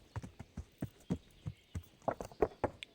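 Horse hooves trot in Kingdom Come: Deliverance, a steady clip-clop rhythm of distinct, close hoofbeats that quickens slightly toward the end, with no talk.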